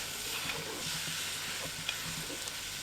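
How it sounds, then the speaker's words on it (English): A spoon stirs a mix through in a cooking pan, with soft scraping and a steady sizzle close by, no talking. "Stir that through."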